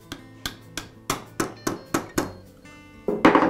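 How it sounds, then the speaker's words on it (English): A rubber mallet taps a ball bearing carrier into place on a Makita sander/polisher held in a vise: about eight dull, evenly spaced knocks, close and fairly quiet, ending in a brief louder scrape. "And now I'll tap it in place with a rubber mallet."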